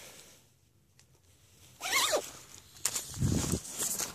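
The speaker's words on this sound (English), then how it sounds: "zip up my coat." A coat zipper is drawn up in two quick rasping pulls, close and fairly loud, after a quiet start, before horse riding.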